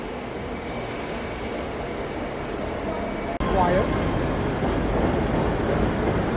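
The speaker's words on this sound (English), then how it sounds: "Here comes the train from Aberdeen, which is, I believe, a 5-coach job." A five-coach train from Aberdeen pulls into the low-level platform at Glasgow Queen Street station, a steady loud rumble filling the platform with a sharp clunk partway through and a brief metallic squeal after it.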